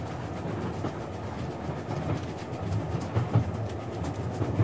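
A train running on rails inside the game Yurukill, a steady rumbling interior ride with rhythmic clickety-clack and soft thumps throughout, with no talk over it.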